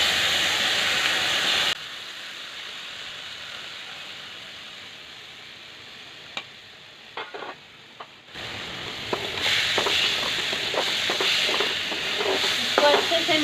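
Dal goes into a cooking pot for an Assamese soda dal and is stirred, giving a steady hiss and sizzle that drops away briefly, then returns with scraping stirs and a few light clinks.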